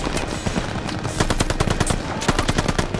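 Sustained machine gun fire in the Call of Duty Vanguard campaign, a loud, continuous rattle of rapid shots layered with further distant gunfire in a chaotic battle scene.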